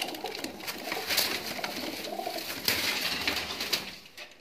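A large male pigeon in a breeding loft coos close by in soft, repeated low throaty phrases, with faint rustling and background ambience around it.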